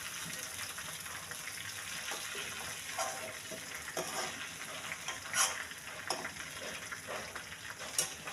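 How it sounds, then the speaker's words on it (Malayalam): Chicken frying in oil, a soft continuous crackle and sizzle with occasional faint clicks and scrapes, fairly quiet and alone. "ചിക്കൻ എല്ലാം വറുത്ത് കഴിഞ്ഞ് ചിക്കൻ നമ്മൾ കോരുവാണെങ്കിൽ"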